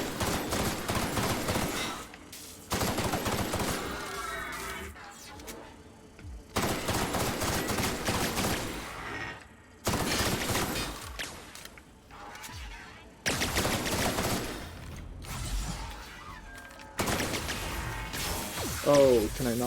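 Rapid gunfire in The Outer Worlds sounds in loud repeated bursts, mixed with clattering impacts and mechanical game sounds, and a player talks now and then between volleys.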